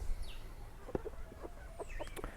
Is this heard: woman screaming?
no